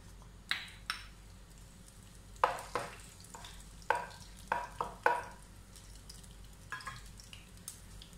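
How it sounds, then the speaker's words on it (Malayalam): Whole spices fry in hot oil in a pan: cardamom, cumin seeds, a piece of cinnamon and cloves. Quiet sizzling runs under a series of sharp close clicks and taps from a spoon stirring against the pan. "ഒരു 4 ഗ്രാമ്പു, ഇത് നമുക്ക് ഇതിനകത്തേക്ക് ചേർത്തിട്ട് ഒന്ന് മൂപ്പിക്കാം"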